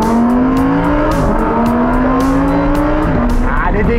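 A Lamborghini Sian sports car driving ahead on the road, its engine a loud steady drone with shifting pitch and brief gear-change dips, heard from close behind.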